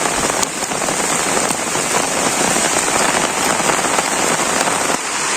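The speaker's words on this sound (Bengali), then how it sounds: "প্রচুর পরিমাণে বৃষ্টি হইতেছে আমাদের এখান থেকে" Heavy rain falls on a Bangladeshi village, a thick, constant hiss and patter of drops striking nearby surfaces, steady in loudness from start to finish with nobody speaking.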